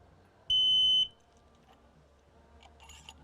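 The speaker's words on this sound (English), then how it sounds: "That's got one beep, so you'll hear it arm in about 5 seconds" A Kovix KTR-18 alarmed trailer lock gives a single loud, sharp electronic beep lasting about half a second as it arms, followed by quiet background.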